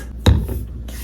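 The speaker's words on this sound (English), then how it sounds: "I'm gonna spray that on next." Heat protectant sprayed onto hair gives one short, close hiss from a spray bottle, followed by soft rustling.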